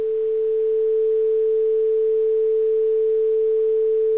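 A steady pure sine tone generated in Max, one unwavering pitch held continuously and loudly with no other sounds.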